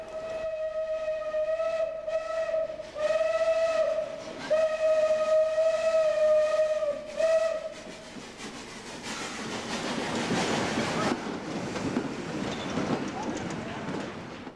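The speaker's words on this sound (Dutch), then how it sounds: "Met veel rook en gefluit komt de stoomtrein van Star uit Stadskanaal binnen" A steam train of the STAR line from Stadskanaal arrives with repeated loud, sustained whistle blasts, then a rising rush of steam and rumbling as it pulls in, with voices in the background.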